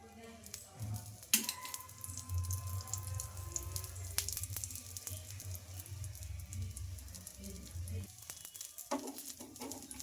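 Oats and spinach dosa batter cooking on a hot pan with oil, a steady low sizzle running throughout with a few sharper clatters and scraping sounds.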